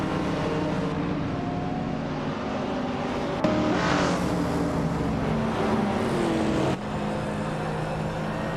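A 2005 Mercedes SLR McLaren roars in a racing video game at Nashville Superspeedway, its engine droning steadily and loudly, with a sharp surge in pitch midway before settling back into a sustained high-revving hum.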